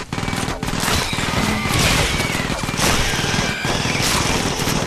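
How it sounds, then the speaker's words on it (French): Sustained machine gun fire in the game Aliens vs Predator, loud and close, in rapid continuous bursts with only brief gaps across the whole stretch. "Tire, connasse de mitrailleuse."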